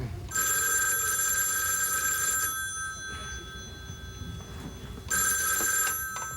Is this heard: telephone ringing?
yes